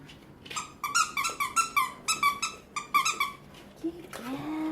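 A French Bulldog gives a rapid run of high, squeaky whining yelps in uneven bursts, ending with a lower drawn-out whine, close and fairly loud.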